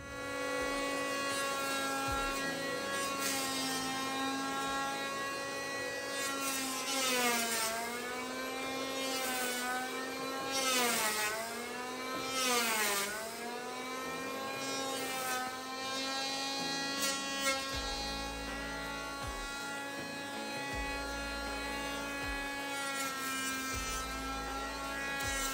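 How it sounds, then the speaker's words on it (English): Power planer cutting wood off a boat stem, a steady high motor whine that dips and rises in pitch as the blades bite in several passes, with brief low thumps near the end. "I'm going to come in with the power plane and start removing some big material"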